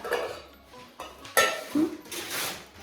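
Pots, pans and utensils clatter during home cooking in a kitchen, with several loud metallic clinks and scrapes spread irregularly over continuous background bustle, close by.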